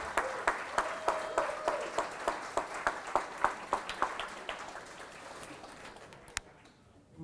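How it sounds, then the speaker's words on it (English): Sparse, distinct claps from a small audience at an evening community gathering, a steady run of separate hand claps that thins out and stops near the end. "give a round of applause for yourself for showing up tonight"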